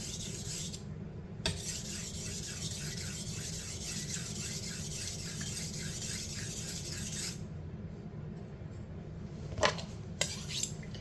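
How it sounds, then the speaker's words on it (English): A knife blade is stroked along a honing steel, producing a continuous metallic scraping and rasp with faint ringing and a few light clinks near the end, close up and steady, with no voices. "Finish her up with steel"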